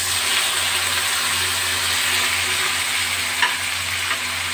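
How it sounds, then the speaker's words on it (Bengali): Spice paste mixed with water, sugar, salt and slit green chillies sizzles loudly and steadily in hot oil, a dense continuous frying hiss with a faint clink of stirring near the end. "এই মশলাটা আমি এবার ছেড়ে দেবো"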